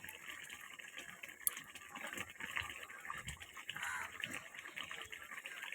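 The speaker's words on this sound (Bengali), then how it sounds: "দেখতেই পাচ্ছ তরকারিটা পুরো ফুটো উঠে গেছে" Fish curry with chapali fish bubbling at a steady boil in a pot, producing a continuous soft gurgling and hissing texture, fairly quiet and close, with no talking over it.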